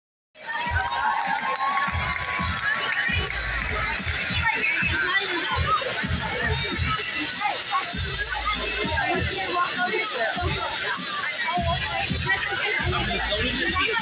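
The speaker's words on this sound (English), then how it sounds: "Good crowd." Lively outdoor crowd at a Home Run Derby X baseball event, continuous murmuring and cheering with scattered shouts, footsteps and handling noise nearby, and people talking close by throughout.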